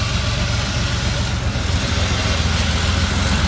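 A 1990 Porsche 911 Targa (964) with a 3.6-litre boxer engine runs on a dynamometer, a dense, loud, continuous mechanical drone with a steady low throb throughout.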